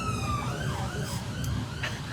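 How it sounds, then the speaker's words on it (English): An ambulance siren wails over steady road traffic rumble, its falling tone sweeping past moderately close with no talk. "it's an ambulance."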